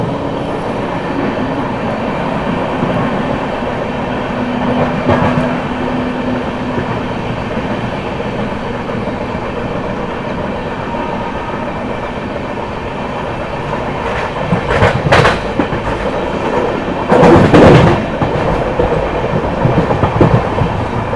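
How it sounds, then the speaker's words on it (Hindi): Shri Shakti AC Express train from Katra to New Delhi running through Sirhind Junction in dense fog, a loud steady rumble heard from on board, with rhythmic wheel clatter and sharper rattling bursts near the end. "अभी अपनी ट्रेन पहुंच गई है सरहिंद जंक्शन, स्किप कर रहे हैं हम लोग।"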